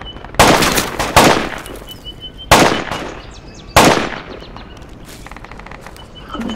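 Gunfire in the infantry shooter Project Reality, with four loud, sharp rifle shots spaced about a second apart, each ringing out briefly before a quieter crackle of distant shots trails off.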